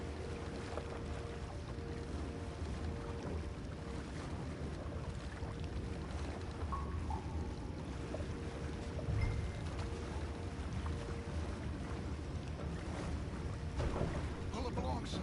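Rowing a small boat across open water in the video game Red Dead Redemption, with steady low water and wind noise filling the scene and faint splashing strokes that stay muted beneath the broadband ambience throughout.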